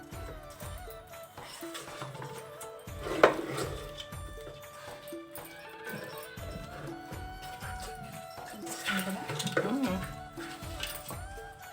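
Marinated kanakarthalu fish pieces are mixed gently by hand in a bowl, giving soft wet squelches and light clinks against the dish, with faint talk at times.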